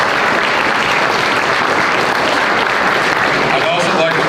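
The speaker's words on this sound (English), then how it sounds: "Let's give her a round of applause." Sustained audience applause at a high school athletic banquet, a thick, even wash of many hands clapping loudly from start to finish.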